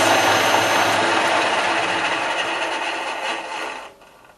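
Milling machine on a 240-volt VFD cutting aluminum, a loud steady mechanical whine and chatter that runs evenly, then fades and cuts off near the end as the spindle stops.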